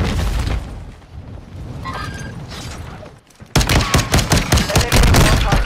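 Loud, close bursts of video game gunfire crack out in rapid repeated volleys after a rumbling, muffled stretch, the shots stacking densely like a firefight.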